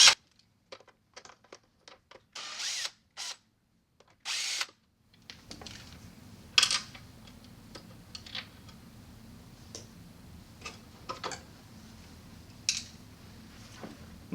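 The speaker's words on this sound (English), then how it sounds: "Now you're ready to disassemble the valve, starting by removing these 2 screws." Screws being backed out of a CSI Signature II water softener control valve with a power driver, short whirring bursts up close, followed by faint ticks and small clicks over a low hum.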